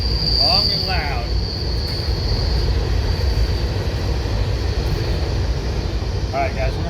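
Heavy train cars roll by close and loud in a continuous rumble, with a high wheel squeal and brief chirpy voices at the start and end.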